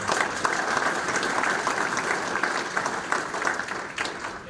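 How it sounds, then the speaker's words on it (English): Audience applause at an electric cooperative's annual meeting, a continuous medium-sized crowd clapping steadily at moderate volume with a few sharper claps standing out. "Let's give them a round of applause for being here."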